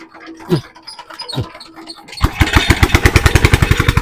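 A small water pump machine engine sputters a few times, then catches and runs in a loud, rapid chugging rhythm close by.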